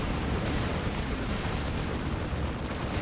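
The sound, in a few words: tank explosion in Dawn of War video game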